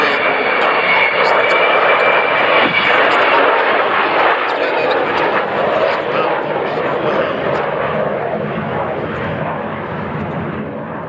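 Avro Vulcan bomber flying a display, its jet engines a loud broad roar that holds strong, then slowly fades as the aircraft moves away.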